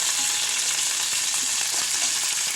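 Asafoetida, curry leaves and broken red chillies sizzle in hot oil, a loud, dense, continuous crackling hiss close up with no talk.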